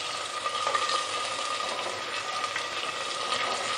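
Ground turmeric, salt, chili and cumin sizzle steadily in hot oil for palak paneer, a continuous moderate crackling hiss with no talk.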